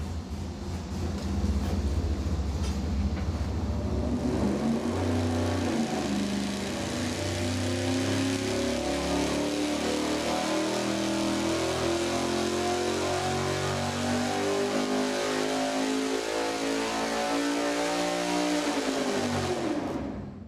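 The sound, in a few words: V8 engine revving during dyno acceleration test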